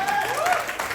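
Applause from guests welcoming a couple at a party, a dense, continuous patter of clapping at steady loudness throughout, with a voice faintly audible over it.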